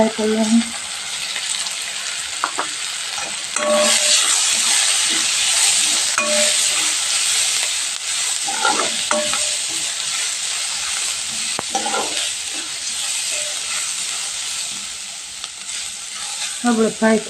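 Onions frying in a pan for paneer paratha, with a steady bright sizzle throughout and scattered scraping stir strokes and clinks from a spatula, fairly loud and close with no talking.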